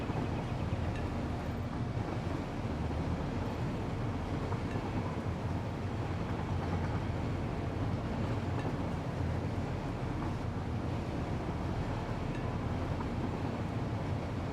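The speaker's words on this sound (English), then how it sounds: "Notice how the train is just going right through all this foam." A train in a video game rolls through a junction and turnaround with a steady, unbroken rumble that holds at the same level throughout.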